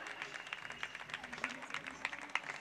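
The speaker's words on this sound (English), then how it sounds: "getting some well-deserved applause" Scattered applause from roadside spectators at the 2016 Pottstown bike race greets the winner, a light, distant patter of clapping with faint crowd murmur.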